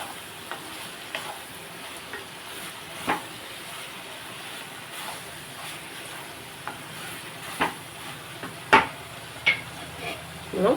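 Brinjal and raw prawns for a curry cook in a pan with a soft, continuous sizzle. Occasional light clicks and scrapes of stirring sit over it, and the sound grows a little busier toward the end.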